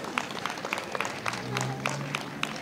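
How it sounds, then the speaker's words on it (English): A morning crowd at an outdoor Christmas charity fundraiser breaks into applause, with scattered claps and cheers at moderate distance and some voices mixed in. "give yourselves a round of applause."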